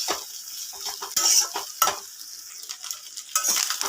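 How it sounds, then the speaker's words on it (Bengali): Small fish and taro stolons sizzle in a pan over a gas flame while a spatula scrapes and stirs in uneven strokes, close up and steady with occasional sharper clatters, no talking. "কিছুক্ষণ ভাজা হতে দেবো"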